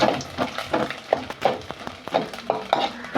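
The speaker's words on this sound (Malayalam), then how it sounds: "നമുക്ക് നല്ലൊരു ഇളക്കി തേങ്ങാക്കൊത്തൊന്നൊരു ശകലം കൂടെ ഒന്ന്" Coconut pieces frying in a pan are stirred with a utensil, giving repeated scraping and clinking strokes at an irregular rhythm over a faint sizzle, close and fairly quiet.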